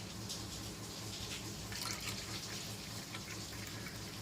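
Water poured from an emptied curd container into a bowl of raita, a steady close splashing and trickling that runs the whole stretch without a break.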